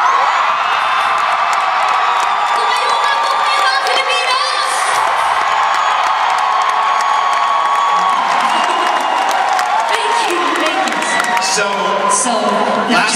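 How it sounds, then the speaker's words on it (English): A concert crowd of Filipino fans at Mandalay Bay cheers, whoops and shouts continuously, a loud, dense roar with high-pitched screams rising throughout, with no talk standing out. "the cheer from the Filipinos here."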